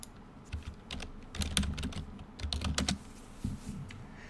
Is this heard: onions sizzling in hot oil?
no